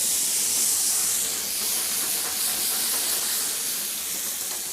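A dish flambéed with aquavit, heard as a steady, loud, broad hiss and whoosh of flame and steam that holds evenly throughout without a break.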